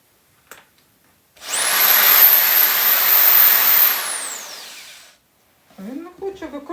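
A power screwdriver whines loudly and steadily for about four seconds while driving a screw into a wall under repair, then winds down, with a brief voice after.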